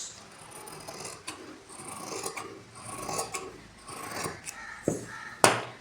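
Scissors cutting through blouse fabric along a marked line, with repeated close rasping snips and rubbing, plus a couple of sharper clicks of the blades near the end.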